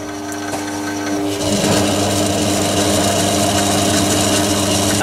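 Myford metal lathe running at about 300 RPM, a steady mechanical whir with a constant hum and faint rattle that rises slightly in level partway through, with no talk.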